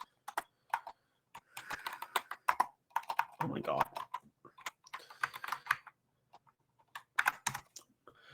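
Rapid clicking of keys on a new computer keyboard, typed in quick bursts and short runs with brief pauses, close and fairly loud, while a voice speaks briefly in between.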